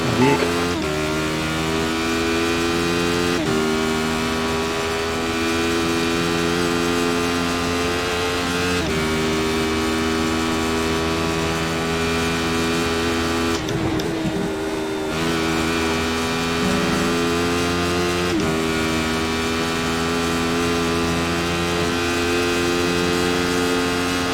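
Steady high-revving engine drone from a Radical SR8 race car in iRacing at Oulton Park International, loud and continuous with strong harmonic tones and a few brief dips as it shifts gears.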